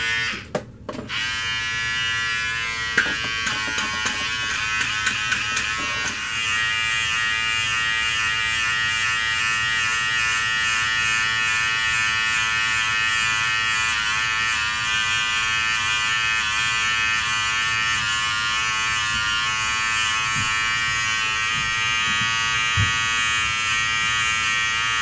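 Electric hair clippers buzz steadily and close while lining up a haircut, a constant bright whine running the whole time after a few brief clicks and bumps at the start.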